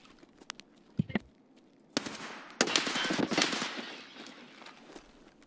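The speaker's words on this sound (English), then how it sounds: "I think I shot a PMC at the end of the corridor on the left." Gunfire in Escape from Tarkov comes as a few sharp single shots and then a burst of rapid automatic fire that crackles and echoes through an indoor space and fades out.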